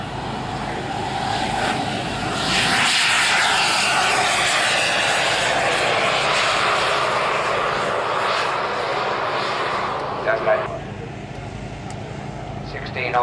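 Engine roar building as a radio-controlled model airliner rolls down a runway at an airshow, a broad whooshing whine swelling and holding, with a voice speaking over it.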